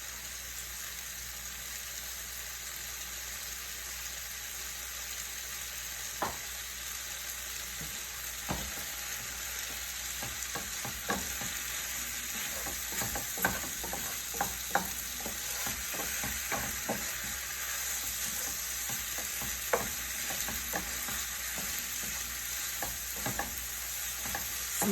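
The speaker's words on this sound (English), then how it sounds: "My tomatoes are breaking down. They're lovely. Yes. See how high I got the stove. Going up a little higher, y'all. Cooking on a high flame." Tomatoes and chicken livers fry hard in a pan on a stove over a high flame, a steady close sizzle with scattered pops and occasional stirring clatters throughout, and no talking.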